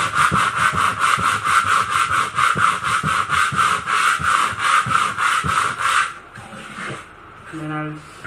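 Rhythmic back-and-forth rasping of sandpaper on a wooden power-supply enclosure, fast and steady for several seconds, then stopping as a voice briefly speaks.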